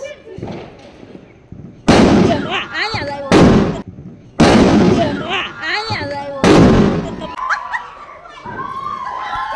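Several loud Diwali firecracker bangs burst in quick succession, each followed by crackling, with excited voices shouting between the blasts.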